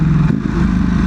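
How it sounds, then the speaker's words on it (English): A Ducati V4 motorcycle engine revs close by in a short, loud, rough burst that suits a downshift in traffic. "oh god, that downshift"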